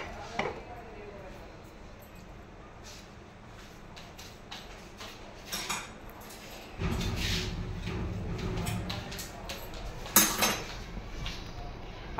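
Macaroni stirred in a pan while cooking chicken macaroni, with repeated scraping and clinking of a utensil against the pan, irregular and moderately close, growing louder partway through.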